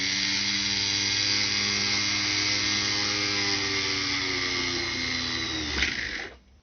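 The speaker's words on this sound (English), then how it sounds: "slowly begin to drill through the blank using that indent that we made as a guide" A drill boring through a metal blank, a steady high whine with ringing tonal harmonics held for several seconds, close and continuous, ending with a short clunk as the motor stops.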